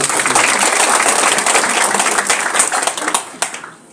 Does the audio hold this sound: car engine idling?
no